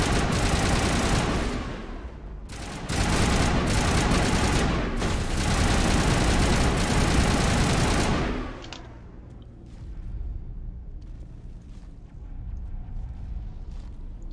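Gunfire from the sci-fi shooter Mass Effect: dense, loud sustained bursts of shots in stretches for about eight seconds, then a quieter lull with softer distant shots.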